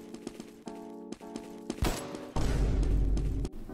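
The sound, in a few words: kill sound effect from a video game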